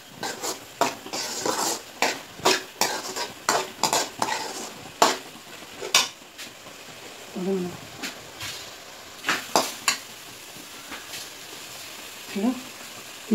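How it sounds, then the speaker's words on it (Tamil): Ridge gourd is sautéed with chili powder in a pan for Tamil peerkangai kootu. A spatula scrapes and clinks against the metal in an uneven, repeated rhythm over a low sizzle, with brief bits of voice. "மிளகாத்தூள் போட்டு நல்லா வதக்கணும்."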